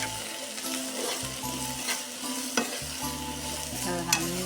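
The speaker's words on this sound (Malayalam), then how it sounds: "ഒന്ന് ഇളക്കി കൊടുക്കാം" Brinjal sizzles steadily in a pan while a spatula stirs it, with occasional scraping clinks against the metal, all close and continuous with no talk.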